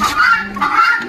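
A silver pheasant gives two loud, close, honking calls in quick succession, each a short nasal burst.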